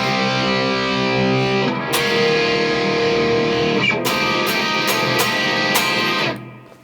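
Electric guitar plays the bridge riff of a funk-rock song, with sustained ringing chords and sharp accented stabs near the end, loud and close with no talking.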